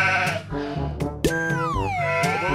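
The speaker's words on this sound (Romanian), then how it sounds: "Oile mele comentează, bă!" A sheep bleats close by in a long, wavering, quavering cry whose pitch slides downward near the end. No talk is heard.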